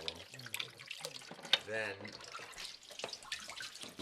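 Tap water runs steadily into a sink while shellfish are rinsed for a frutti di mare marinara, a continuous splashing flow heard close up beneath someone talking over it throughout.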